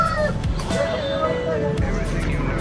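Desi chickens cluck and call at a busy street market in Tamil Nadu, a rooster-like cry rising briefly over loud talk, traffic rumble and general crowd noise.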